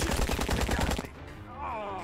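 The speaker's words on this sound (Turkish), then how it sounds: "Pompalıyla vuruyor bir de." Rapid gunfire from a shotgun in the crime strategy game Empire of Sins, a dense run of loud close shots for about a second, then a quieter stretch of game sound.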